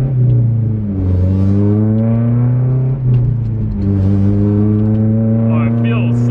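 A Honda S2000 with VTEC revs hard on the Tail of the Dragon mountain road, its engine note climbing in rising harmonic sweeps with brief dips at gear changes, loud and close from inside the car.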